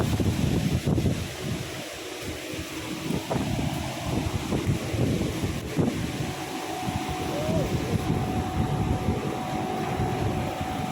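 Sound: strong wind blowing into the microphone

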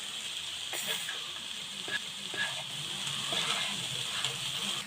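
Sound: stirring cooked spinach with salt in a pan

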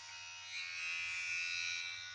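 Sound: Wahl Detailer cordless hair clipper running, rattling loudly

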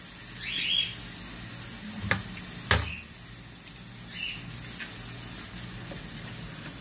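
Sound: hamburger and egg frying in a pan

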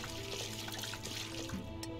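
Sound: bucket of paint being poured, from video game SuchArt

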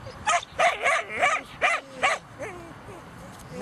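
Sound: dog barking during obedience training

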